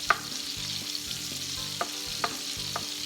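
Chopped onions frying in a pan for country red potatoes, a steady soft sizzle under rhythmic scraping strokes of a utensil across the pan, close and moderate in volume, no talk.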